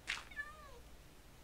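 A Minecraft cat gives a single short meow, clear and close but quiet, with nothing else around it.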